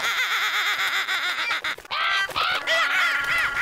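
Cartoon crows cawing loudly and repeatedly in a busy, squawking flurry, mixed with giggling, laughing cartoon sounds and a brief whistling tone, no clear speech.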